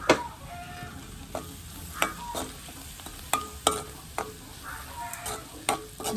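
Onions and chilies sizzle gently in oil in a pan, with soft scattered clinks and scrapes of a spoon stirring them, quiet and close with no talking.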